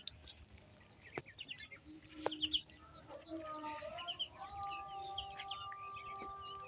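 Chickens on a farm raising Chinese ducks, after rain, clucking in short, scattered bursts with a few sharper calls. The sounds are soft to moderate and moderately close.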